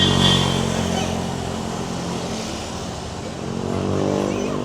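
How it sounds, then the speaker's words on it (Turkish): Motorcycle taxis wait on a Philippine street at night, a busy wash of idling and passing engines, louder at the start and end, with traffic hum and faint voices underneath. "Burada da motosikletli arkadaşlar bekliyor"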